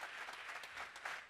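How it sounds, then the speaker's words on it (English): Audience applause at a live in-person debate, a brief burst of steady, dense clapping from a crowd, fairly faint and without talk. "Big round of applause for the Mud House for putting out some coffee today."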